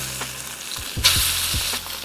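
A chili-powder-rubbed steak sears in a hot pan with a loud, steady sizzle that swells partway through, along with a few low thumps from the pan; no one talks.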